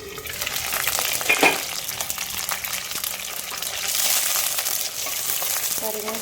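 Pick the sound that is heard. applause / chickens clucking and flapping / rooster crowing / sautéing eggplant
sautéing eggplant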